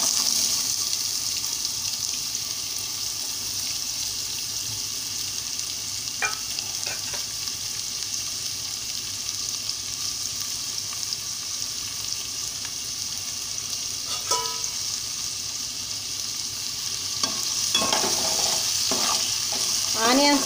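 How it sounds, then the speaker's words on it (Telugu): Chopped onions fry in hot oil in a home kitchen for an alasandakayala curry, giving a steady, close hiss of sizzling with occasional stirring clatter and scraping, no voice present. "ముందుగా ఆయిల్ వేడెక్కుతుంది కదా, ఇప్పుడు మనం ఆనియన్స్ వేసుకోవాలి."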